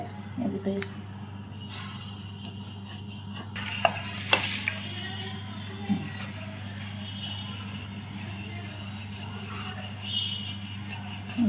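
Dal puri dough is rolled out gently and slowly into small rounds with a rolling pin, giving soft, repeated rubbing strokes over a steady low hum, with a few light knocks.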